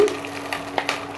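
Ginger-garlic paste with red chilli powder and spices sizzles briefly in a hot pan, a soft steady fry with a few faint utensil taps, no voices.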